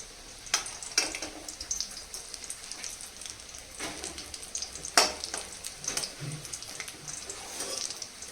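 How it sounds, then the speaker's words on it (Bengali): Fish roe fritters fry in oil in a wok, giving a soft, steady sizzle with scattered pops and crackles, heard close but fairly quiet and without any talking. "এবার মাছের ডিমের বড়াটা ভাজবো"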